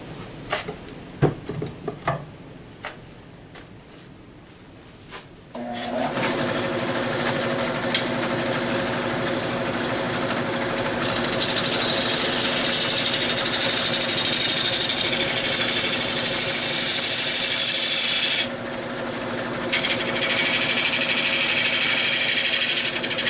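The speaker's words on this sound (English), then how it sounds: "Let me put the scraper on there, see if I can get out a few of those ridges." A steel scraper rides on a spalted maple bowl, partly punky, turning on a wood lathe, giving a steady loud whirring hum with a brighter hiss in the middle section after a few quiet knocks at the start.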